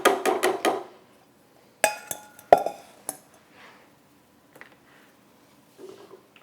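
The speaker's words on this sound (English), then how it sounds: "Now my cherries go back into the pot." Cherries are tipped back into a metal pot for a Black Forest cake, with a quick cluster of sharp metallic clinks and knocks, then a couple more scattered clanks and soft thuds fading to quiet handling.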